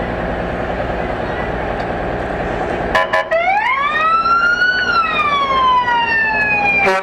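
A fire engine in a Fourth of July parade in Alburg sounds a brief blast, then its siren winds up, rising and holding before easing slightly, loud and close over a background of engine rumble and crowd.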